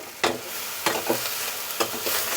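Tomatoes sauté in a pan, a soft sizzle under three or four distinct spatula scrapes against the metal, close by.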